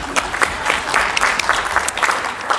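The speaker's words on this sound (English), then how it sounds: "sir, let's applaud them." Audience applause at a welcome event marking a journal's first issue, a steady patter of many hands clapping at moderate volume, filling the room without pause for a few seconds.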